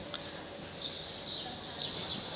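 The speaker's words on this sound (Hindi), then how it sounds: "दिन भर चारों तरफ चिड़िया की चहचहाट की आवाज़ आती है।" Small birds chirping outdoors among trees, faint high tweets and short calls scattered over a quiet background, distant and soft, with no talking.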